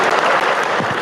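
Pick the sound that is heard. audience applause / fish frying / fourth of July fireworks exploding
audience applause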